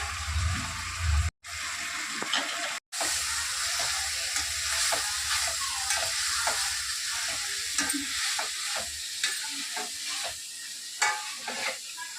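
Mutton curry masala sizzles and spits in a hot pan as curry leaves go in, with steady frying crackle, a few stirring scrapes and short pops, close and fairly loud, with no talking.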